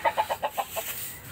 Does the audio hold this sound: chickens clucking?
yes